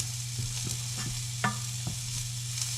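Spinach wilts in a pan alongside a sauce for bass, giving a steady soft sizzle with occasional light taps and stirring scrapes, fairly close and without talk.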